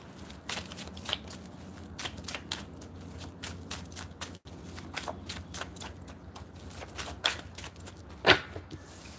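Tarot cards being shuffled by hand, a close run of quick papery riffles and soft taps in irregular bursts, ending with a sharper snap as a card comes loose.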